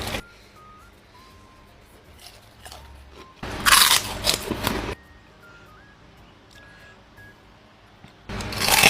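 Two loud crunchy bites into a hot, freshly fried cipuk snack seasoned with salt and red chili powder, short separate bursts of crackling crunch with quiet pauses and faint beeps between.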